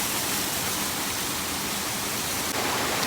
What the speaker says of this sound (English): So here we are, guys, at the waterfall.